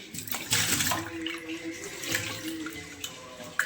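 Tap water runs and splashes while rinsing a freshly cleaned kitchen sink, a close, steady hiss of flowing water with a few sharper splashes.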